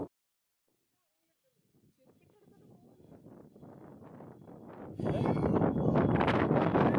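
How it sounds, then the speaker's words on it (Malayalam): Strong wind buffets the microphone outside a temple in Tenkasi, building from near silence into a loud, roaring rumble that becomes harshest in the final seconds. "ഇവിടെ ഭയങ്കര കാറ്റാണ് കേട്ടോ ഒന്നും പറയുന്നത് കേൾക്കാൻ പോലും പറ്റുന്നില്ല"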